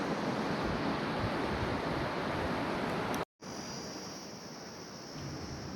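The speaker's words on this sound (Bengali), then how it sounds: "কি সুন্দর দৃশ্য সমুদ্রটা কি সুন্দর লাগছে দেখো" Sea surf on Bakkhali beach, a broad, steady wash of waves and wind hiss, heard close and fairly soft, with a brief dropout in the middle before the roar resumes; no voices.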